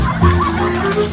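A rooster clucks repeatedly in a steady run of nasal calls, close and loud over a busy outdoor background.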